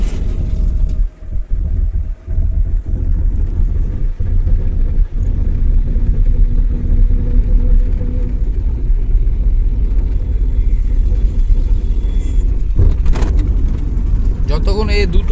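A car with the accelerator held down during a driving lesson gives a steady, close, low engine rumble with a few thumps and bumps, while people talk over it throughout.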